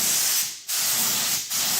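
Spray painting a light white dusting coat onto a damaged bumper cover: a loud, close spray-gun hiss in continuous bursts, briefly dropping out twice between passes.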